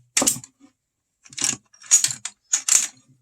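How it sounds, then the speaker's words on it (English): Metal parts of an SKS rifle clicking and sliding as the bolt is pushed forward and the recoil spring is refitted, in four or five short, crisp bursts with quiet gaps between them. "push your bolt forward, put your recoil spring back in"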